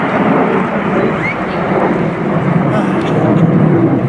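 De Havilland Vampire jets of the Norwegian Air Force Historical Squadron flying at the RIAT 2018 airshow, a steady, loud broadband jet roar that holds throughout with no clear pass or fade.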